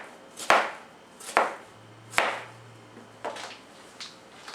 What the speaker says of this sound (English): I'm finished chopping the tomatoes